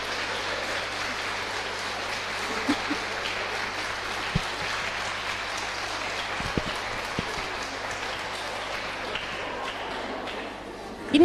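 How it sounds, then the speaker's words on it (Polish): Steady applause from an audience at a Polish folk music gathering, dense and sustained for several seconds with a few sharper claps, ending with a louder burst. "Wielkie brawa dla pana Darka"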